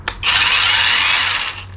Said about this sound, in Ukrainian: Електрична ланцюгова пила з двома додатковими акумуляторними батареями